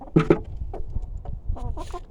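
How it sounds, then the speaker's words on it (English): Chickens cluck close by with a few short calls in quick succession, set against a makeshift outdoor workspace where vinegar and steel wool are being mixed in a bucket. "chicken audience."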